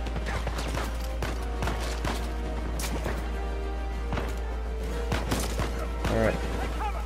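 Gunfire in the Uncharted 4 video game: repeated sharp shots and impacts scattered across the clip, loud and close, layered over ongoing game noise.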